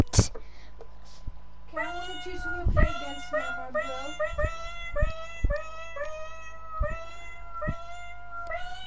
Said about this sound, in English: Guys, this is all my cats.